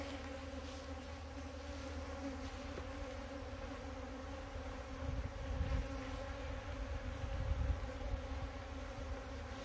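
Honey bee drones crowd a frame pulled from a laying-worker hive, making a dense, steady buzz close by that swells louder toward the end, with no talking.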